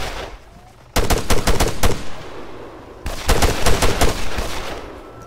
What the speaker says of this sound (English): Is that gunfire here?